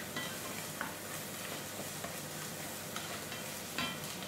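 White wine hits a hot cocotte as it is deglazed for quail stuffed with morels, giving a steady close sizzle with a few sharp spits and stirring scrapes.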